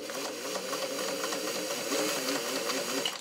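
A fully restored vintage all-metal Singer 403 sewing machine stitching through garment leather, running in a continuous, close, even mechanical whir with rapid needle rhythm.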